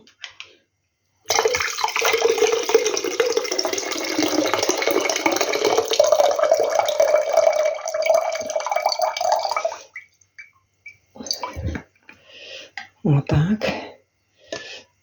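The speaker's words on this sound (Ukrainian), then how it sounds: "От буду зливати останню баночку." Liquid from jars of marinated tomato pieces with onion and oil pours out in a steady close splashing stream for several seconds, then stops, followed by a few drips and knocks.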